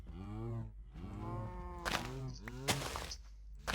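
Cattle lowing in the Minecraft FTB Monster modpack, several drawn-out moos from nearby cows following one another, with brief sharp clicks from the game layered in.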